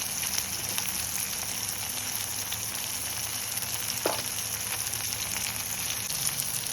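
Turmeric, chili powder and coriander powder frying in oil in a heavy pan for dry fish curry, a constant close sizzle and crackle with a brief clink of a utensil partway through.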